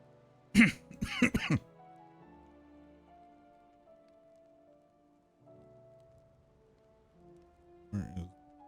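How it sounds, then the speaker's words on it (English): A man coughs and clears his throat in a short burst of several harsh coughs near the start, then gives another brief cough later, with faint game music and ambience beneath. "I don't know why I'm suddenly coughing."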